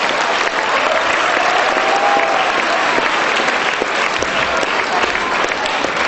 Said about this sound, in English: Let's hear a big round of applause for them.